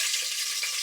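Spices and green chillies sizzle steadily in hot tempering oil for carrot chana dal curry, a dense, even hiss held close and fairly loud throughout with no voices.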